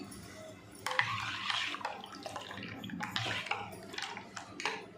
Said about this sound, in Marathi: आता त्याच्यामध्ये गार पाणी टाकून घेतले।